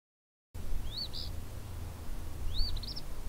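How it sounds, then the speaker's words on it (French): An eastern phoebe sings two short, high, rising calls about two seconds apart, distinct above a steady low rumble of background ambience in a calm outdoor setting. "C'est un moucherolle Phoebe."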